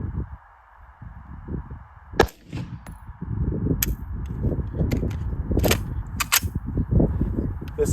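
Unsuppressed shots from a North Reach Manufacturing 5.56 rifle gassed for a suppressor, firing bulk 55 grain ammunition: several sharp, separate cracks spaced a second or two apart over a rumbling background.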